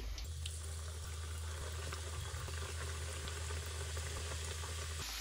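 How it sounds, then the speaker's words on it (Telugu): Gorumitilu, jaggery and sugar sweets, deep-fry in a pot of hot oil with a dense, steady bubbling sizzle that holds at an even, fairly loud level from start to finish. "హీట్ అయిన ఆయిల్లో గోర్మిటీలు అన్నీ వేసేసుకోండి"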